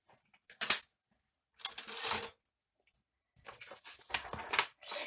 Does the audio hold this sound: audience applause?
no